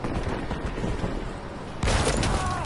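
Battlefield 5 combat rumbles with distant gunfire and low booms, then a sudden louder explosion bursts in near the end and carries on as a roaring wash.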